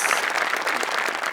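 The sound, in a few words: audience applause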